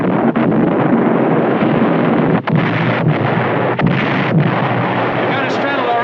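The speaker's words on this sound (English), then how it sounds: "We got her straddled already. That's pretty good shooting." Naval gunfire in a 1953 British war film, repeated booming shots from warships at sea over a constant rushing wind-like roar, with several sharp bursts punctuating the steady noise.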